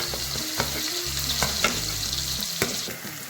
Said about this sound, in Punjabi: ਸਾਰੇ ਨੂੰ ਮਿਕਸ ਅਪ ਕਰ ਦਾਂਗੇ ਦੋ ਤੋਂ ਤਿੰਨ ਮਿੰਟ ਆਪਾਂ ਇਹਨੂੰ ਭੁੰਨ ਲੈਣਾ